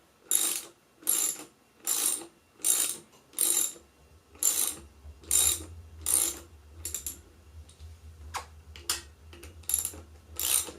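Ratcheting hand tool tightening brake rotor cap screws on a Ride1up Revv1 e-bike: rhythmic bursts of rapid clicking, close and moderately loud, becoming shorter and more irregular over a low steady hum, with no speech.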